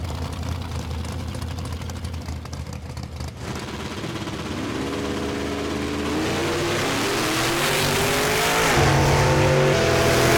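Classic cars race down a dragway: engines idle and rumble, then rise into loud, close, revving acceleration with rising engine tones, no talk.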